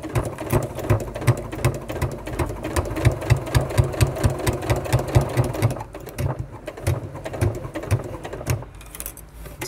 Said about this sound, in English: I will stitch right next to that piping cord.